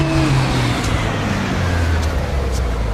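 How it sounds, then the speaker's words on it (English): A small French hot hatchback driven at speed, its engine droning steadily from inside the cabin with a shifting tone as the revs change, loud and continuous without speech. "Funny sort of engine note, though."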